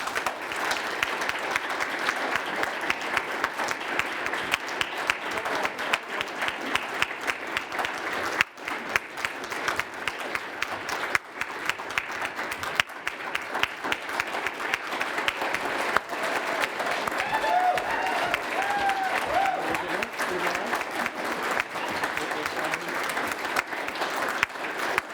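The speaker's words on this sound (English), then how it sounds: "If we could give them a round of applause" Sustained applause from a studio audience welcoming the party leaders at an ACT election leaders' debate, a steady dense wash of many hands clapping throughout, fairly loud and even with no voices over it.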